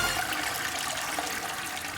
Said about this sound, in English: The humble toilet.